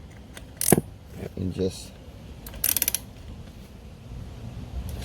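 Cup or strap wrench turning the oil filter on a 2007 Victory Hammer motorcycle, short ratcheting clicks and metallic rasps in a couple of bursts, with someone briefly talking.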